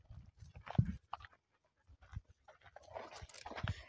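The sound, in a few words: dogs panting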